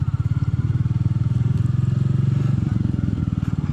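Royal Enfield Meteor 350 with a belt drive riding over bumps on a gravel road, its single-cylinder engine giving a loud, steady, close thumping pulse along with light rattles from the road.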